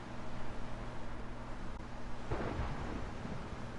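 A Minecraft thunderstorm sends one thunder crack with a brief rolling rumble about midway through, heard alone over a soft steady hiss of rain-like noise.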